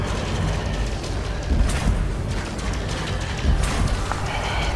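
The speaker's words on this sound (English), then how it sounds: "Fucking cannons are firing so slowly." Ship cannons fire during a space dogfight in Elite: Dangerous, moderately loud booming shots spaced a second or more apart over a steady low engine rumble, with no talking.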